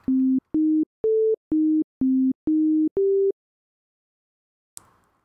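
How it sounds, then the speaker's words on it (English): Seven short pure sine-wave tones sound one after another at slightly different pitches, clean and steady, followed by silence and a soft click. "So here's a pure sine wave."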